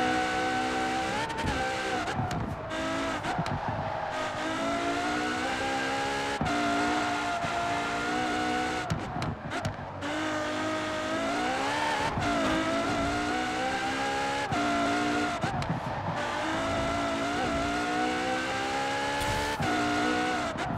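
A race car in the video game Forza Horizon 4 drives continuously, its engine revving up and down through gear changes while the tires squeal and skid through corners, loud and with no talk.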